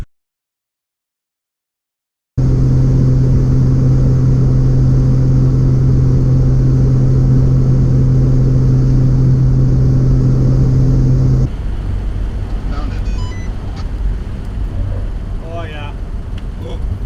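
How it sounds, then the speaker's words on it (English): Steady road noise and engine rumble inside a Hudson Hornet on the move, a loud constant drone with a humming tone after a silent opening, shifting to rougher rumble with a voice talking briefly toward the end. "It's pretty loud in the car."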